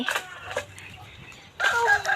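A chicken gives short clucking calls, faint at first and then louder and closer in a final burst, in an otherwise quiet outdoor setting.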